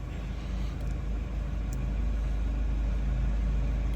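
A Mazda 2.2 Skyactiv diesel engine runs steadily with nobody in the car, a low continuous rumble that rises slightly in level across the clip.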